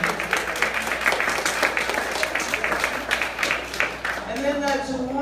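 A crowd applauds Atlanta's Department of Engagement with a steady patter of clapping from many hands that runs for about five seconds, while a voice speaks over it toward the end.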